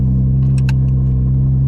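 A straight-piped Porsche 718 Cayman GT4 RS drones as it drives, a loud steady low engine hum heard from inside the cabin, with a couple of brief clicks or jingles over it.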